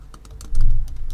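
Code being typed on a computer keyboard, a run of sharp clicking keystrokes over a steady low hum that swells partway through, close-up with no speech.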